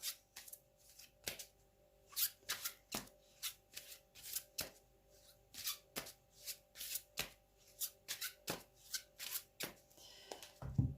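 Oracle cards, from an earth-magic deck, shuffled by hand in a quiet room: a long run of quick, crisp riffling bursts at an even rhythm, soft and close, with no voices.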